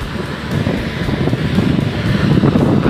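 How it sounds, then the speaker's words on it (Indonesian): Large sea waves rolling onto the beach at Kemantren, Paciran, Lamongan, a loud, continuous surging roar of surf mixed with gusty wind noise on the microphone. "Nanti ini ombak laut menggulung-gulung nih, begitu besar."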